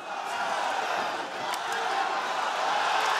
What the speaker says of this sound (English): Crowd are going nuts here.